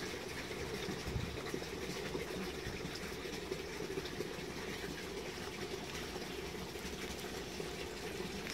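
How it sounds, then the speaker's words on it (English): Water from a koi fish tank drains steadily through a plant pot for germinating seeds, a continuous close trickling and gushing with no pauses. "So allow the water to drain."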